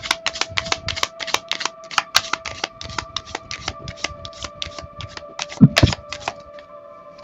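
Tarot cards being shuffled by hand, a rapid run of crisp riffling snaps in an even rhythm lasting several seconds, close and fairly loud, with a brief knock near the end.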